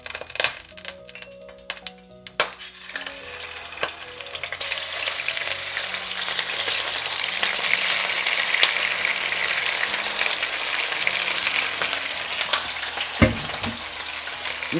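Chicken drumsticks fry with garlic and sauce in a pan for braised chicken. A few soft clatters come first, then a loud, steady crackling sizzle runs throughout, with a dull knock near the end.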